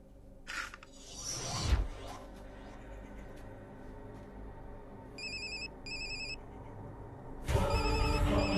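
A phone ringtone chimes in short repeated bursts, fairly quiet, with a few louder rustles and thumps nearby.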